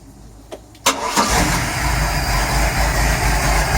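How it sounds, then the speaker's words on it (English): A Volvo Penta 4.3 GI marine engine cranks briefly with a couple of clicks, then catches and settles into a loud, steady idle close by. "Okay, here we go, engine startup."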